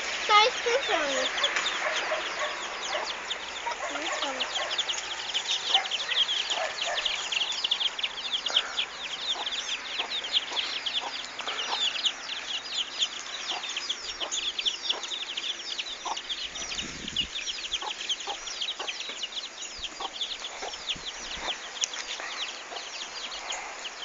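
Chicks and hens cluck and cheep on a farm, a busy chorus of many short, high peeps and clucks close by, with voices talking intermittently among them.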